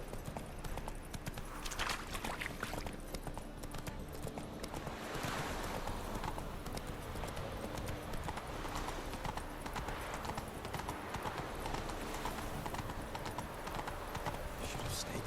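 Roach the horse galloping in The Witcher 3, a continuous rapid drum of hoofbeats under a steady wash of wind and ambience, moderately close, with a voice talking briefly over it.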